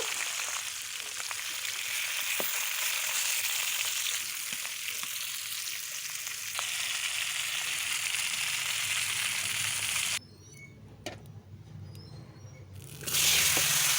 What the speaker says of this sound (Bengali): আমি কয়েক পিস মাছ সুন্দর করে লাল লাল করে ভেজে নেব